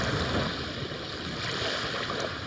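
Loud waves of water, a dense continuous wash of surf noise, steady and close with no talk over it.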